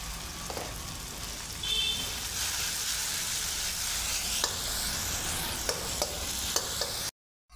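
A pan of paneer bhurji sizzles steadily as green chili paste is stirred in, with close scraping and a few sharp clicks of the spoon against the pan over a continuous frying hiss; no one speaks.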